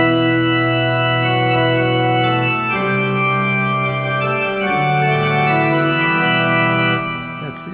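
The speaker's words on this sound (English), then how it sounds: "That's called the pipe organ." A church pipe organ sustains rich, full chords that shift slowly from one harmony to the next, steady and loud throughout with no voices.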